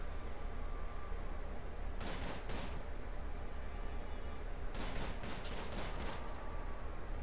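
Gunfire in the Prison Architect video game, two quick bursts of sharp shots, a short group of three and a longer cluster of several, set against a steady hiss, faint and without talk.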